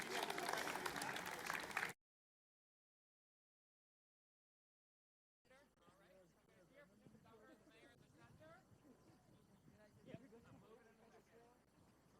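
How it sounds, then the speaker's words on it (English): Audience applause for the governor and mayor at an outdoor event near Hudson River Park: a short loud burst, then a gap of silence, then steadier, softer clapping and crowd noise with voices mixed in. "Let's have a big round of applause for our governor and our mayor."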